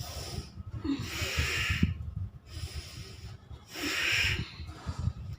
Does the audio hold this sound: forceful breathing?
yes